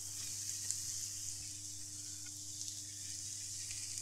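Mushrooms sizzling in a pan of butter with onion, garlic and diced potato, a soft, steady crackle and hiss that continues alone and evenly throughout.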